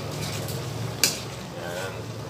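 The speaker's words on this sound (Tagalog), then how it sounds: "Saka natin halu-haluin ngayon ulit." Chop suey with cabbage and cream of mushroom is stirred in a pan, a soft steady sizzle underneath a single sharp clink of the utensil against the pan.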